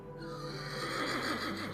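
A horse whinnies loudly and continuously, a drawn-out neigh with wavering pitch heard up close against a steady low hum, with no talking.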